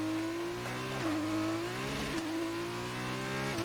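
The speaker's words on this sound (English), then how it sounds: "That was a turbo kicking in." F2 race car engine in F1 2019, a steady high-pitched turbo whine and engine drone with brief dips in pitch as the driver shifts, running continuously without talk.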